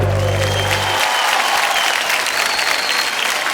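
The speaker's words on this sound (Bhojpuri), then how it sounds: "जोरदार तालियां सुपरस्टार मेंबर ऑफ पार्लियामेंट श्री मनोज तिवारी जी के लिए" Loud, dense audience applause at an International Bhojpuri awards show, steady clapping from a large crowd with a low musical tone fading out in the first second.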